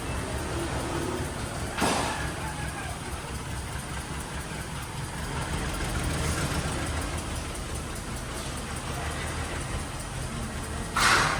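A Toyota Altis engine with lost compression in cylinders 3 and 4 idles roughly in a repair shop, a steady low rumble with an uneven, misfiring pulse and a couple of brief louder bursts, without speech.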